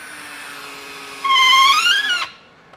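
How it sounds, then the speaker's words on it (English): A Ryobi 18V ONE+ 1/4-inch hex cordless screwdriver whirs at a steady hum, then rises into a louder, strained whine for about a second as it drives a long screw, then stops. "plenty of power to drive those longer screws"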